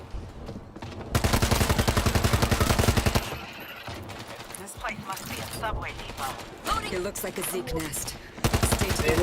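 Rapid bursts of automatic gunfire from the video game World War Z rattle loudly in two stretches, with someone talking in between.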